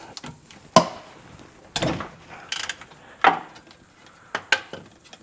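A socket wrench with a 1-1/8 inch (about 29 mm) socket loosens a bolt on a Holden Commodore differential during an oil change. Several separate sharp ratcheting clicks and clunks, close up, with quiet gaps between them.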